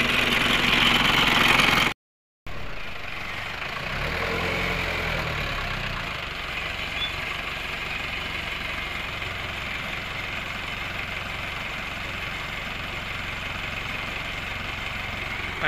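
An Isuzu C223 4x4 engine idles with a steady, even mid-low rumble, close and continuous after a brief cut near the start.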